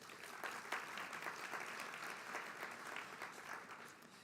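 Audience applause at a community college nursing pinning ceremony, steady and dense with many hands clapping, heard at a moderate distance and sustained for several seconds before easing slightly.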